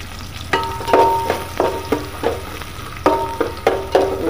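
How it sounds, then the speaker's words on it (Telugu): Onions fry in oil in a pot for biryani, a continuous sizzle broken by rhythmic scraping stirs about every half second, loud and close with no talking. "ఇప్పుడు దీంట్లోకి వచ్చేసి ఆనియన్స్ ఇవి బాగా వేయించుకోవాలి"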